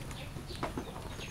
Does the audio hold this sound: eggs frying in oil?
no